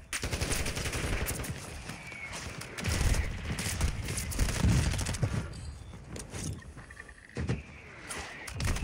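In the video game Warzone 2, rapid bursts of automatic gunfire crackle in uneven clusters at mid distance, loud at times and fading at others, over a background rumble.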